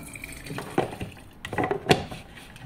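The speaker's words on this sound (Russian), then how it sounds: "я в чайник наливаю столько воды, сколько идет сюда, в термос" Water splashes and gurgles in short uneven bursts as it is poured into a thermos, fairly quiet and close.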